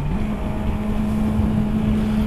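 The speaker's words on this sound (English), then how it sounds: "This one's got a Yoshimura pipe on it." A Yamaha R6 sport motorcycle fitted with a Yoshimura exhaust pipe gives a steady, continuous engine drone with a sustained low tone, close and unbroken throughout with no talking.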